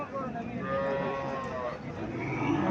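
A Haryana breed dairy cow at a cattle market in Cumilla gives a long, loud, sustained moo close by, filling the whole stretch.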